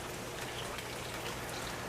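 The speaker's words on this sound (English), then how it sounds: "as you may be able to hear in the background, it is still raining" Steady rain falls outside on a chilly, wet evening at about seven degrees Celsius, a continuous even hiss of drops on surfaces with no breaks and no voices.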